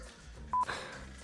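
A single short telephone dialing tone for a phone-a-friend call, a brief electronic beep over quiet background murmur.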